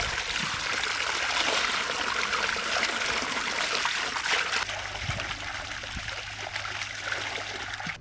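Tap water runs steadily while elephant foot yam is being washed, a close, continuous splashing stream that eases slightly partway through, with no voices.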